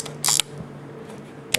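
A Konishiroku Pearl III film camera has its film advance lever wound, giving a short burst of close mechanical clicking and ratcheting in a quiet room, then a faint click near the end.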